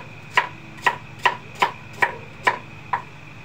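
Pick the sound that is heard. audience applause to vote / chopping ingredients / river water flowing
chopping ingredients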